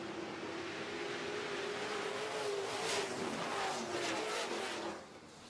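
Super trucks race at a short-track feature after the green flag, their engines a loud, continuous roar that rises and holds before easing off near the end, with no talk over it.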